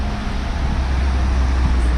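Morning traffic on a Japanese street rumbles as a steady, close wash of idling and slow-moving vehicles with low engine drone and no voices.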